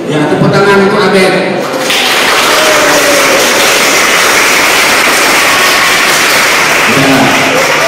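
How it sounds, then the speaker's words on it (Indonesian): A school study-tour crowd from SMA Negeri 9 Medan breaks into loud, dense clapping for a student, starting after a few seconds of speech and going on steadily to the end, with voices briefly over it near the close. "Ya, tepuk tangan untuk Abed."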